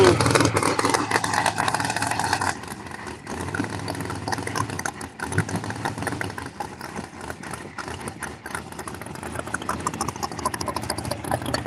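Procharger Z28 drag car, black with orange striping, at Bradenton Motorsports Park, its engine idling and revving loudly up close in an outdoor pit area, with a few blips and surges and voices faintly underneath.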